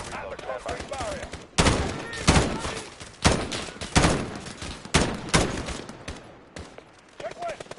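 Loud, close bursts of automatic weapons fire in a combat engagement come in rapid, ragged volleys, with short pauses between sharp cracks and a few duller thuds.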